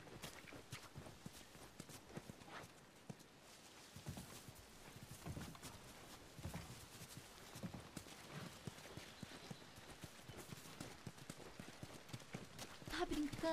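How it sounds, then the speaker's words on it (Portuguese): Horses clip-clop in the video game The Last of Us: steady hoof steps at a moderate distance under continuous conversation between characters. "Vocês têm cavalos."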